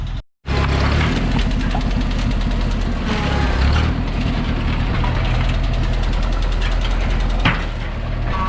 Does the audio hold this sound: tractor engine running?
yes